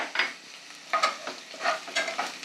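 Curry leaves and crushed garlic crackle and spit in hot oil with liver, in sharp, close sizzling bursts and a few stirring scrapes. No one speaks.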